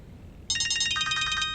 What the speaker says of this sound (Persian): تلفنت زنگ میزنه. ببین کیه؟